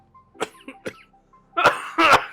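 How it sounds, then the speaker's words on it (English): A few coughs close by: two light, short coughs followed by two heavier, harsher bursts, with brief quiet gaps between. "Coughing in the shot."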